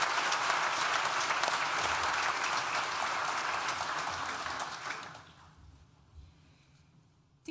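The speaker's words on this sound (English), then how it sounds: "Please join me in thanking them with a well-deserved round of applause" Graduation audience applause at a university ceremony for the School of Science and Technology, a full, dense round of clapping from a large crowd that holds steady for about five seconds, then fades quickly into near quiet.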